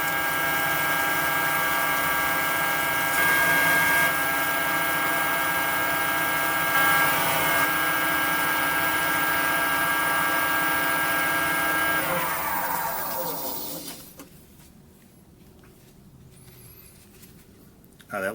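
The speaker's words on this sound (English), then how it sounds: "we're about halfway through the sanding progression now" A lathe spins a whiskey-barrel-wood pen blank while it is sanded, giving off a steady, loud whirring whine that holds for many seconds, then winds down and fades into near silence as the lathe stops.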